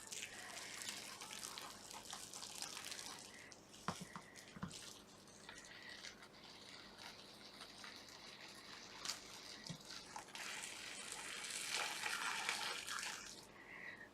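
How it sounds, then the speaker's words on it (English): Boiling water poured from a kettle onto shredded paper for paper clay, a steady watery splash and trickle running on at low level for the whole stretch, with a few brief knocks and a brighter rush of pouring toward the end. "I will pour the boiling water on top of this paper now"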